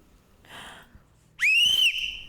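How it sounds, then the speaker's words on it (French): A sharp, shrill whistle blast from a whistle used to restore calm among people at a neighbourhood homework school, one sustained loud tone of about half a second, preceded by a faint voice in the background. "j'ai pris un sifflet pour préserver sa voix. De temps en temps, on en a besoin. Ça remet le calme"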